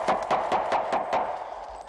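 A patioba palm-leaf utensil is beaten as a signal in the forest, about eight sharp, evenly spaced knocks in a quick steady rhythm, close and fairly loud.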